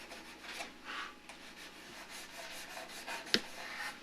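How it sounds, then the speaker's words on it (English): Soft, repeated rubbing strokes of 400-grit sandpaper in the final sanding of a luthier's wooden instrument, a gentle rhythmic scratching, close and quiet, with a light tap near the end. "Now this is the final sanding"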